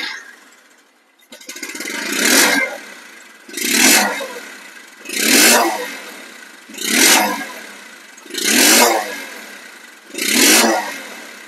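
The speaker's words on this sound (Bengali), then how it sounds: "বাইকের সাউন্ড কোয়ালিটি শুনলে আরো অবাক হয়ে যাবেন।" A Discover 125cc motorcycle engine revved six times in a steady rhythm, each throttle blip swelling loudly and falling back to a quieter idle, close and with no talk.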